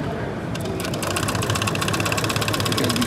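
JUKI PLC-2760NV industrial sewing machine stitching at a trade show, a rapid, even mechanical chatter over a steady motor hum, close and fairly loud.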